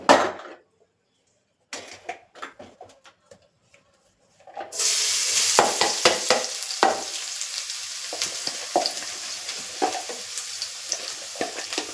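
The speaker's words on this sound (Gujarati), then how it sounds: "તેલ ગરમ થાય એટલે આપણે જે ક્રશ કરેલું લસણ છે તે ગેસ એકદમ ધીમો કરી અને એડ કરી લેશું" Crushed garlic hits hot oil over a low gas flame and sizzles steadily, a dense crackling hiss that starts partway through after a few quiet clinks and stirs, with small pops scattered through it.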